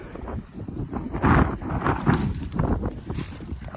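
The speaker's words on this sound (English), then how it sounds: "Block out that wind." Wind buffets the microphone in a soybean field, a close, uneven low rumble that swells and fades in gusts over several seconds, with no talk.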